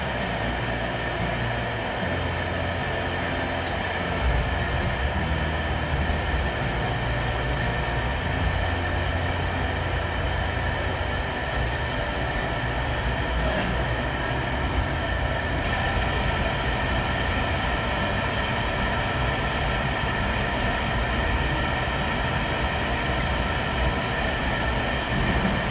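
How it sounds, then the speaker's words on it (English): A steady, loud mechanical roar and rattle with a persistent high whine from a worn bearing in a Rheem water heater vent blower, grinding on continuously without pause. "The bearing noise is about to ramp up here."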